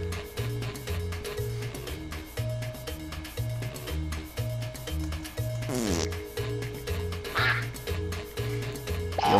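Cartoonish duck quacks from the Fibbage party video game repeat in a steady, evenly spaced rhythm over a looping musical backing, clear and upfront.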